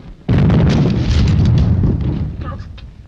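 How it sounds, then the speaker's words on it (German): A loud, close grenade blast erupts in a war film, a deep rumbling roar that fades into a crackling tail of debris and noise. "Eine Granate. Wahrscheinlich hinter dem Hause."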